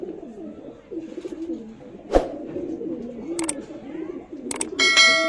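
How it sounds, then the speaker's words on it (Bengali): A female Andra Fulshira pigeon coos in repeated low, rolling calls close by, punctuated by a sharp metallic clank and a few bright clinks. "এটা দেখুন, এটা মাদা পায়রা।"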